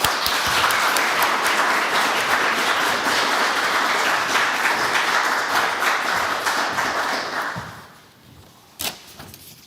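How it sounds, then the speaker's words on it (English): An audience at the Gulf of Finland Science Days 2023 applauds in a dense, steady burst of clapping that fades out near the end, followed by a few scattered knocks. "we should give a big applause"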